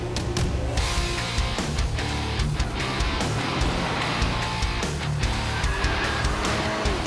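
A Mercedes-AMG with a 2.0-litre turbo four-cylinder accelerates hard on a race track, a loud continuous engine roar with rapid gear changes and some tire noise.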